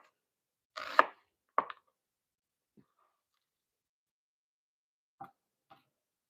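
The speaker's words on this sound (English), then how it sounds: "then we'll just do long, thin slices so that they'll caramelize up, get a nice quick, sear on them" A knife cuts sweet peppers into long, thin strips for steak fajitas. A few quiet, separate chops land against the board, with long pauses between them.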